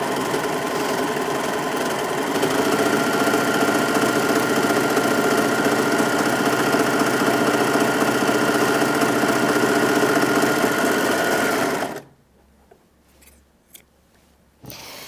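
A Brother 3034DWT overlocker stitches fabric in one long, loud, steady mechanical chatter with a fast rhythmic clatter, running close for about twelve seconds before stopping abruptly, followed by a few faint clicks.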